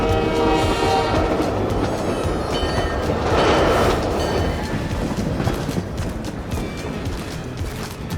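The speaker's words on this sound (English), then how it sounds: "I think it's gonna be noisy with the trains" A train rumbles steadily past at close range, loud and continuous, with a horn sounding early on and rattling wheels fading slightly toward the end.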